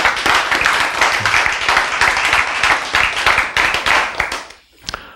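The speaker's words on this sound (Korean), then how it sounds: "박수." Congregation at a church service claps together in a steady, dense burst of hand claps lasting several seconds, then tapering off abruptly into near silence with a couple of stray claps.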